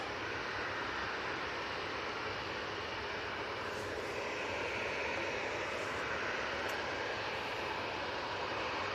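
A Bombardier Challenger 350 business jet bound for Palma de Mallorca roars on takeoff, a loud, steady, broadband engine rush that holds at the same level throughout.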